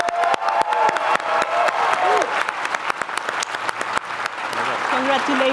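Audience applause at an architecture school commencement ceremony honoring graduating students, steady dense clapping with a few whoops and a brief voice or two mixed in.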